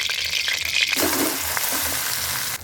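Boiled, drained Maggi noodles drop into a pan of hot white oil, and a loud, dense frying hiss swells at once and holds steady up close, with a little soft stirring underneath.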